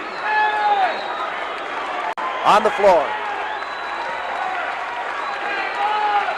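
A professional wrestling crowd in Houston jeers Butch Reed during his match with Tito Santana, a steady loud roar of noise running under a commentator's voice.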